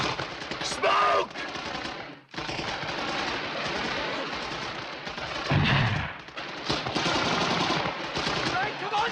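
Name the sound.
machine gun and rifle gunfire in battle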